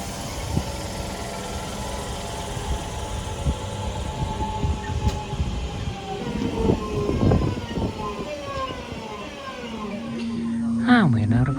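Class 323 electric multiple unit 323-213 pulling out of Poynton station, a steady rolling rumble with rising motor whine and rail clatter close by, someone talking over it.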